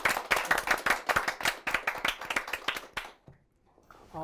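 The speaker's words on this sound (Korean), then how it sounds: "박수 한번 보내주시죠" An audience at a book forum author talk gives a burst of clapping, distinct close hand claps in a quick uneven rhythm that stop abruptly near the end, leaving near silence.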